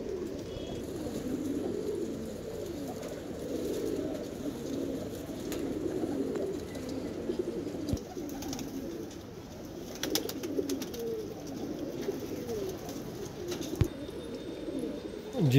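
Pigeons, including black Madrasi birds, coo in low rolling murmurs that overlap continuously, with occasional scuffs and clicks nearby.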